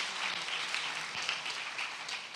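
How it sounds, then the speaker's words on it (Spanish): An evenly sustained crowd of hands claps in a church service, a dense, steady wash of applause with no voices over it. "Ahí sí yo le daría un fuerte aplauso al Señor."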